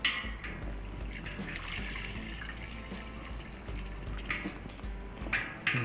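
Homebrewed NEIPA wort drains out of a hop spider into the brew kettle, a close, soft watery trickle and splashing that swells and fades in irregular bursts.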